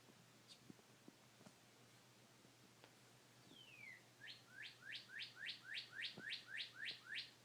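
A small bird chirps faintly in the distance at first, then gives a sharp, rapid run of about a dozen identical upswept chirps in steady rhythm, close and clear against quiet background.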